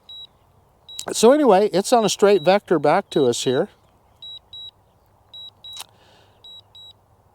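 A DJI Mavic Mini drone returning home emits a steady, high-pitched electronic beep in short pairs throughout, continuing under someone talking and then sounding on its own.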